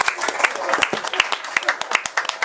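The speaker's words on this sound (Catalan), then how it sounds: "Gràcies per aquests aplaudiments enllaunats." Canned applause sound effect in a radio or studio show: a short burst of brisk, crowded clapping, fairly loud and steady for a couple of seconds, with a voice partly over it.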